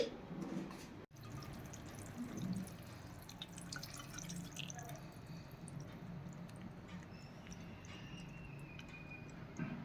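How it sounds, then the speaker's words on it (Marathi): Fresh lemon juice for a lemon pickle being strained through a strainer, a steady close dripping and trickling of liquid running through the whole stretch with no talking. "आता आपला हा रस तयार झालेला आहे आता मी गाळून घेते"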